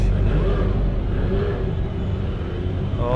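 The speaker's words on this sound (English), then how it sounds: "Another GT3 going out." A GT3 race car heads out of a busy pit lane at the Dubai 24 Hours endurance race, its engine a loud, steady low rumble that fills the whole moment without a break.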